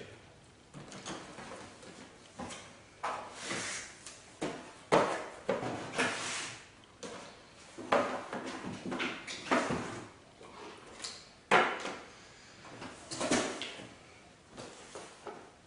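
A Miracle MAX machine being pulled out of its box, with repeated knocks, scrapes and rustling bumps of handling in irregular bursts, fairly close and moderately loud.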